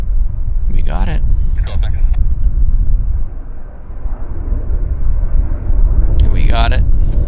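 An airliner rolling at Vancouver Airport, bound for Narita, makes a heavy, continuous low rumble throughout, with people talking over it at intervals.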